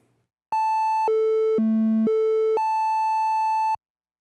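Behringer Model D synthesizer oscillator playing a steady tone that steps down in pitch over several notes and back up again, sustained and loud with no gaps, then cutting off cleanly.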